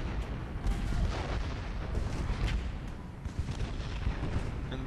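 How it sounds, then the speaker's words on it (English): Artillery pieces firing on a battlefield in the strategy game Ultimate General: Gettysburg, a dense rumble of booms and distant cannon blasts rolling on without pause, with no voices present. "some artillery pieces are firing, some are not"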